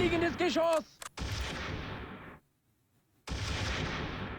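Gunfire and artillery bursts in the World War II strategy game Close Combat III, loud dense blasts and rattling fire that cut out briefly to near silence before another heavy barrage resumes; a voice is heard briefly at the start.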